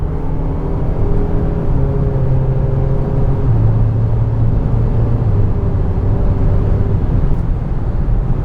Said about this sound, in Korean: 이렇게 수동 변속을 해봤는데 확실히 DCT답게 좀 빠르게 기민하게 변속이 되는 게 있습니다